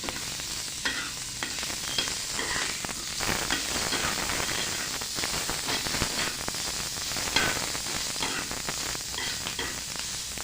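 Chopped onion roasts on a hot iron griddle used for bhakri, with a continuous dense sizzle and faint scraping of stirring, close and steady throughout with no talk.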